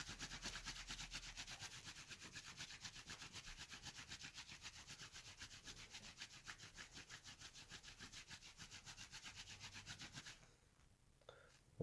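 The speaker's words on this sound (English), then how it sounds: "Rub some more, and rub pretty hard now" Wet felt is rubbed hard by hand in a fast, steady back-and-forth scrubbing rhythm for about ten seconds, close and fairly quiet, then stops.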